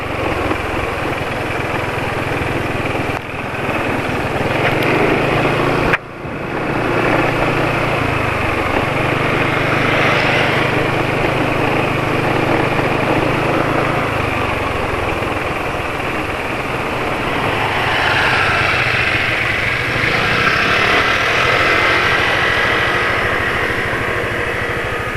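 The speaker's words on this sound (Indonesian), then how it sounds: "Masih senyap banget ya kalau mesinnya idling gitu ya." An engine filled with Mesran B40 oil idles at a steady, low hum, close and even for the whole stretch, with a couple of brief knocks or bumps early on and no talking.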